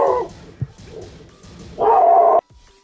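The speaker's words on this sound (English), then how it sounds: "he starts barking at her" A pet dog barks in a few short, loud bursts close by, with a sharp yip among them and a longer, sustained bark before it cuts off.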